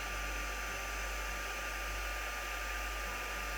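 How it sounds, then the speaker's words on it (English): A heat gun running steadily with a constant, close airy roar and low hum, unbroken throughout and heard alone without speech. "Even the heat gun's saying, hey, it's a bit cold today"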